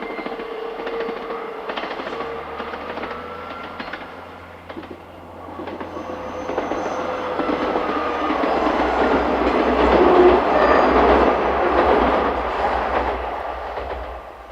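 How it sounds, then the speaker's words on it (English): A train rumbles over a bridge between two lochs on the Kyle of Lochalsh line in Scotland, its steady low roar swelling to a peak near the end with a faint rhythmic clatter of wheels. "hopefully catch the train going over that bridge between the two lochs there"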